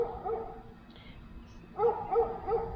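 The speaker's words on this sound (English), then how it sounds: "the dog next door is barking" A neighbour's dog barks from next door, a couple of short bursts early on, then a quick run of three or four yips and barks after a brief pause, moderately distant in a backyard garden.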